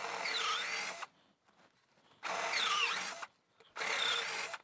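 A 3/8 inch bit drills a hole while a DCC model railroad system is being installed, in three loud bursts of steady whining drilling separated by short pauses, with no talking.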